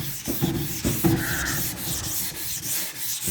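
Sanding car body putty coated with guide coat on a VW Beetle/Baja, a close, steady back-and-forth scrubbing rasp with rhythmic strokes and no talking.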